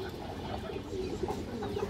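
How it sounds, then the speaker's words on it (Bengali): Pigeons coo softly and repeatedly in a loft among fantail and Indian high flyer birds, faint low calls under steady background noise. "পুরো ফুল ডাউন শেপের কবুতর দর্শক"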